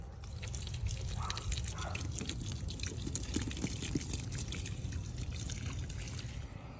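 Water splashing and trickling steadily onto soil over newly planted potatoes, a continuous close wet patter throughout with no talk.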